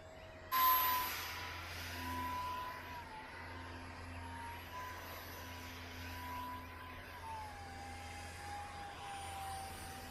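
Radio-controlled model plane with tubercle wings flies overhead, its electric motor giving a steady thin whine at moderate distance that shifts slightly in pitch as it banks and glides, with no talking.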